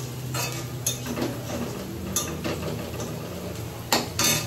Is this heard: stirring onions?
yes